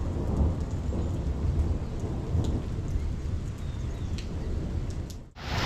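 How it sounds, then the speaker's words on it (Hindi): Heavy rain with hail pounding down during a storm near Kedarnath, a steady dense roar with scattered sharp impacts throughout, loud and continuous until a brief break near the end. "बारिश इतनी तेज आने लगी है ना, ये देखो ओले भी गिरने लगे हैं"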